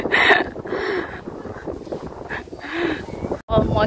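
Gusty spring wind buffets the microphone in bursts near a beach in Greece, rumbling and rushing unevenly, with a brief dropout near the end.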